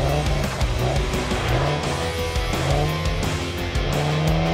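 Rally car launching from the start line of a night stage at an ARRO round in Ermelo, engine revving hard and loud throughout with the roar of the nearby car dominating.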